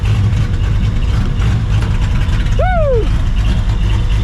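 A New Edge Ford Mustang GT's 2-valve V8 runs at a steady, loud, low rumble throughout, with a single short whoop from a voice over it.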